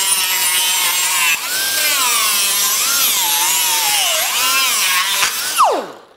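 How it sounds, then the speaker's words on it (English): A high-pitched grinding whine from a spinning sanding disc on aluminum, its pitch wavering up and down, then dropping sharply as it spins down. "grinding your aluminum."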